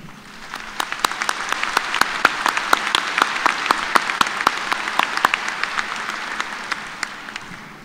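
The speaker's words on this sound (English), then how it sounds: "Would you please join me in a round of applause for these five faculty members?" Sustained audience applause for five faculty members at a Human Ecology spring commencement in 2018, a steady wash of many hands with sharper individual claps standing out, swelling through the middle and easing toward the end.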